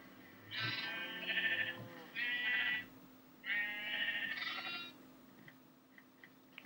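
Sheep bleating in Minecraft, four drawn-out wavering bleats in two pairs, loud and clear with no talk, followed by a few faint clicks.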